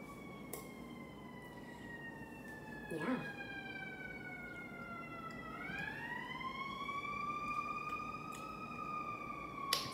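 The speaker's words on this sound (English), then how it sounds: "Sorry for the sirens." Emergency vehicle siren on a street in Oak Park, a wailing tone rising and falling at a distance under light background noise, with a brief word spoken.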